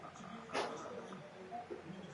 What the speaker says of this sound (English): My dog is stretching.